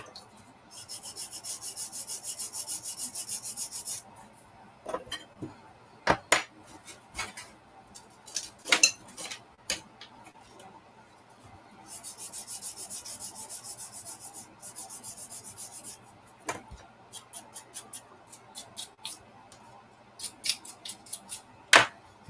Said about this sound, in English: I'll finish the rest with sanding